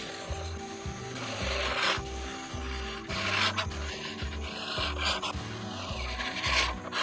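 An Earthwise manual reel lawnmower cutting along lawn edges, giving a close, rhythmic whirring and rasping with repeated pulsing strokes as it is pushed back and forth.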